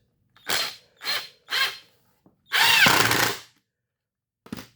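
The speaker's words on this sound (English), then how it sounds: "I'm screwing my boards together" A power drill drives screws into wooden boards for a square frame, with three short whirring bursts in quick succession, a pause, then one longer grinding run and a final brief blip, close and loud.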